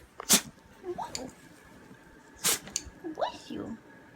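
Two sharp sneezes about two seconds apart, each a sudden loud burst, with soft voices speaking in between and after.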